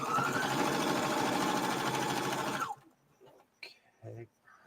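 Sewing machine stitching a giant hood: a steady, fast mechanical whirring and rattling for under three seconds, then it stops, leaving faint clicks and a brief voice.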